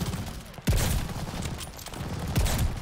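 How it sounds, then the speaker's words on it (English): Sniper shots from the 3-line rifle in Call of Duty: Vanguard, two sharp loud reports about two seconds apart with rumbling tails, over low game ambience. "All right, so with the 3-line sniper rifle, let me show you guys this real quick."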